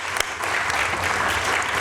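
An indoor audience claps in a dense, steady burst of applause, welcoming a speaker at a sound therapy association event.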